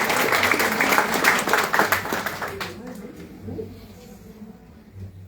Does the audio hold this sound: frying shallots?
no